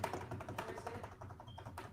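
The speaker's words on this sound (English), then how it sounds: "You can hit your keyboard a bunch of times. I'm sure that's probably what I can hear." Computer keyboard keys are struck rapidly again and again as a makeshift drum roll, a quiet, continuous patter of light clicks.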